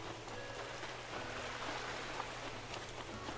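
Steady rain hisses and patters in Animal Crossing: New Horizons, a soft, even wash of drops that carries on without a break under a low tonal hum.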